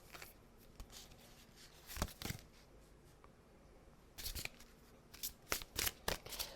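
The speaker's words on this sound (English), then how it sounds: "while I'm shuffling here" Oracle cards riffle and snap in several short bursts as they are shuffled, with quiet pauses between them, close and fairly soft.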